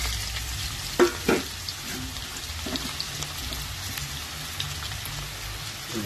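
Onions sautéing with beef in a pan: a soft, even sizzle like light rain, with a couple of louder spatula knocks near the start and occasional faint scrapes.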